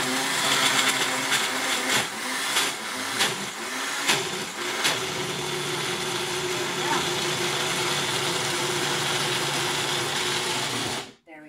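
Blender whirring through keto chocolate sauce, a loud continuous motor buzz with a few sputtering bursts early on as the mix catches, running steadily for about eleven seconds before abruptly stopping.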